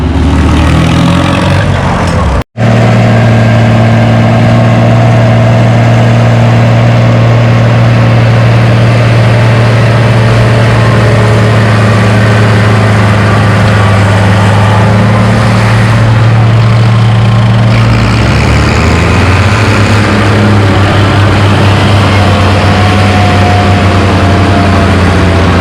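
Stock tractor engine at a 4,000-pound tractor pull, a steady loud low rumbling drone close by that runs throughout, with a brief dropout early and a slight shift in tone near the end.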